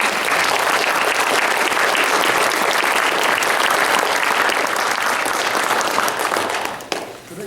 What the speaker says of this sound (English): So a round of applause for all of these people.